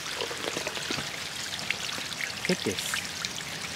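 Steady rain falls on the stone steps of Hiroshima Castle in Japan, a continuous close hiss with scattered drips and splashes, and a voice speaks briefly.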